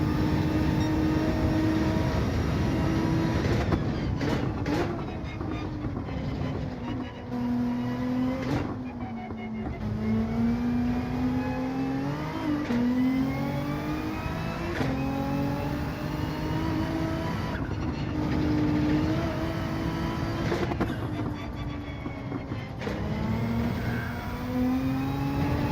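Gr.3 race car engine in Gran Turismo 7 on the Lago Maggiore circuit, a continuous loud drone that climbs and drops in pitch through gear changes and corners, with brief lifts and re-accelerations.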